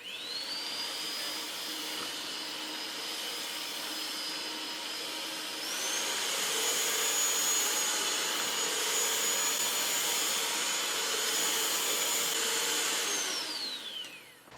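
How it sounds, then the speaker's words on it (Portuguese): Electric mixer beating simple cake batter until smooth, a steady close whirring hum whose pitch steps up midway, then winds down at the end, with no talk. "E agora eu vou bater até ficar homogêneo."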